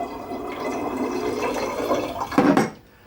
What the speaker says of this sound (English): we're going to pour it into our fermentation bottle